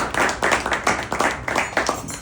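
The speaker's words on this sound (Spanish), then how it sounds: "Y otro aplauso de bienvenida." Audience welcoming a speaker at an economic history lecture with a round of clapping, rhythmic bursts of many hands close by, loud and continuous.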